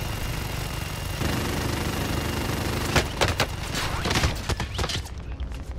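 Video game gunfire crackles as a burst of several sharp shots and quick rapid volleys over a steady engine-like drone, fairly distant and moderate in level.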